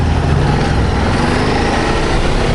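Ducati DesertX motorcycle with its 937 cc engine being ridden on the road, a loud, steady, close engine drone mixed with rushing wind noise throughout.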